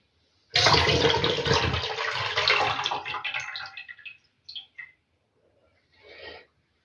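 Hot water pours out of jars of pickled cucumbers, a loud gushing splash that tapers off over a few seconds, followed by a few brief trickles and drips.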